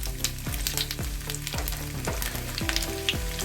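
Cumin and ginger frying in hot mustard oil in a kadhai, a steady crackling sizzle with rapid spattering pops close by, over faint tonal background music.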